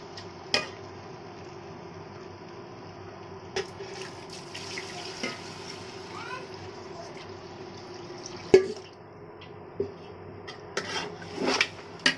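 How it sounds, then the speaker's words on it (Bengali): Water is poured from a tap or jug into rice already fried for beef biryani, a faint trickle and splash under low background noise, with a few clinks of a pot or utensil. "এখন আমি এখানে পানি দিয়ে দিচ্ছি।"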